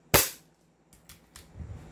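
A single sharp crack from a stock, non-upgraded airsoft gun without a trigger job or fine tuning, close and loud, followed by faint mechanical clicks and a soft thump.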